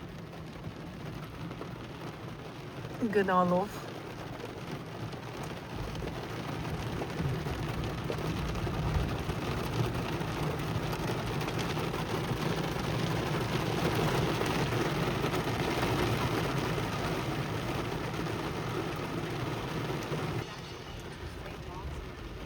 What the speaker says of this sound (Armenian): Սպասում ենք, որ անձրևը կամացանա, մենք իջնենք մեքենայից, բայց ավելի ուժեղանում է